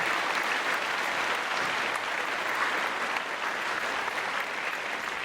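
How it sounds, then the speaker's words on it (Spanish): Steady applause from a church congregation during a Sunday service, many hands clapping continuously at an even, fairly loud level with no speech over it. "Denle un aplauso al Señor esta mañana."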